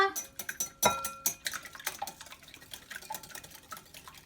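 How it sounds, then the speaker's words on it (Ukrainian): One egg is whisked for fish batter, a run of quick light clicks and taps of a utensil against a bowl, close and fairly quiet, fading into softer rhythmic stirring. "Кляр ми кладемо одне яйце, взбиваємо його, додаємо молочка"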